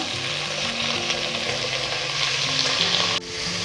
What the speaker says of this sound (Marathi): हे चांगलं ह्या तुपामध्ये परतून घ्यायचं। गॅसची फ्लेम हायच ठेवायची